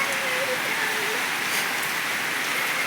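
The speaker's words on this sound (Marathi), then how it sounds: "तर आता चालू आहे पाऊस" Continuous rain hissing evenly, with a faint voice briefly audible early on.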